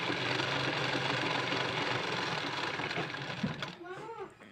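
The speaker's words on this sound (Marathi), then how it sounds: "हे असं आतल्या साईडनं फोल्ड करून घ्यायचं आहे आणि एक शिलाई मारून घ्यायची आहे" Sewing machine stitching along folded hook-and-eye tape, a steady close mechanical whir running continuously before slowing and stopping near the end.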